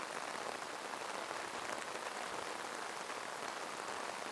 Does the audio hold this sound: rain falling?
yes